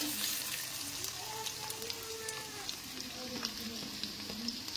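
Onions sizzle and fry in a pan with a continuous soft crackle, moderately quiet, while a voice speaks faintly in the background.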